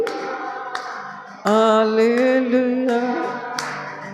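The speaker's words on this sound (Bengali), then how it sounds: "হাততালি দিয়ে গায়" Devotional group singing of hallelujah, with sharp claps keeping time at a steady pulse beneath the loud, sustained voices.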